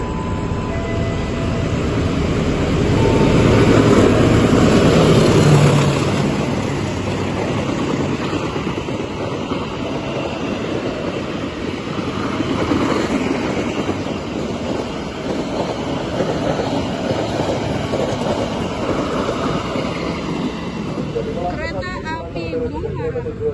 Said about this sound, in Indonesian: Oh, ini ada KRL ke Manggarai.